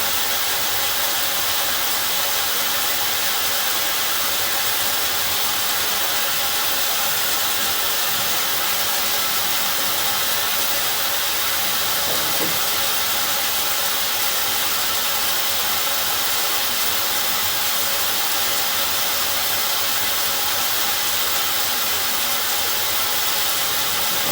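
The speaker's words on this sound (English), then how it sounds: "knock that steam down a little bit here in a second." Continuous loud hiss of steam, steady and unbroken throughout, with a faint rumble beneath.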